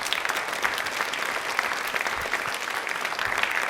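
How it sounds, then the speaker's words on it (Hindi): Loud, sustained applause from a large audience at a public question-and-answer event, dense steady clapping filling the whole stretch without pause. "प्लीज़ एक बार तालियां जोरदार हो जाए।"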